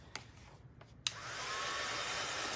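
A hair dryer used to dry craft pieces for a DIY firefly lantern clicks on after a few handling taps and then blows with a steady, loud, close whoosh.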